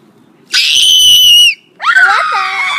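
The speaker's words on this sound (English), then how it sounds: "I made her scream instead" A character in a Frozen video game screams loudly twice, a long shrill cry followed after a short pause by a second, wavering scream, with no talking.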